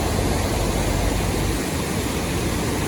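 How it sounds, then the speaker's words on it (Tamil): Buttermilk Waterfalls pours down in a loud, continuous roar of rushing water, heard close and steady with no voices over it. "தண்ணி கொட்டுது."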